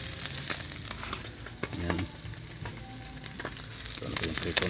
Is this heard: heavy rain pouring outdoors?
no